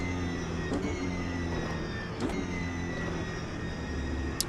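A BMW race car engine in the video game Automobilista 2 hums along at a steady, moderate pitch, with a couple of brief whooshing passes and a small click near the end.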